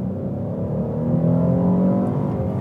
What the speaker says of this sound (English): The naturally aspirated V6 isn't only powerful enough for the occasion, but it also sounds pretty good.